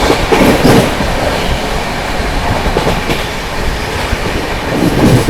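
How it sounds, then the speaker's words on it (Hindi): The Bihar Sampark Kranti Express speeds through Etawah Junction with a loud, continuous rushing roar of passing coaches and wheels, close by and steady throughout. "गजब की रफ्तार में अपनी बिहार संपर्क क्रांति स्किप करने जा रही है इटावा जंक्शन को।"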